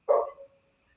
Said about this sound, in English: Why is my dog barking like that?